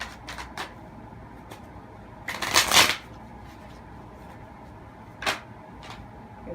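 Tarot cards being shuffled in short bursts: a few light riffles, one longer loud flurry in the middle, then a single quick riffle, close up against a quiet room.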